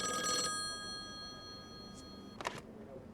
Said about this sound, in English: Whose phone's ringing?